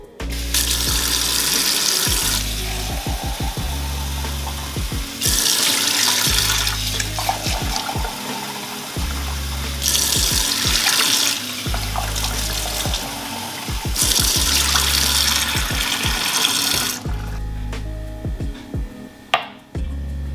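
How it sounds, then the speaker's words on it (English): Room-temperature tap water running into a glass in a home kitchen, in repeated loud bursts of splashing flow separated by short pauses, with no talking. "I'm going to be applying some room temperature water up in here, okay? And I'll be filling the glass up almost all the way."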